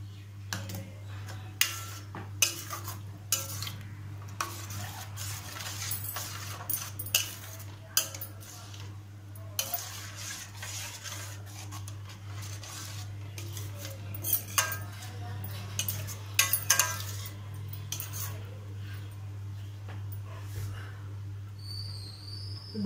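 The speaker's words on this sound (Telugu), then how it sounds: "దీన్ని స్మాష్ చేద్దాము" Cooked chickpeas being smashed with a utensil for chickpea masala curry, giving scattered soft clinks and scrapes of metal against a pot over a steady low hum, fairly faint and irregular, with no talking.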